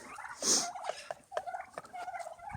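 Turkeys gobbling as they are walked around a rural yard, with one bright gobble near the start followed by scattered softer clucks and calls, fairly faint and close.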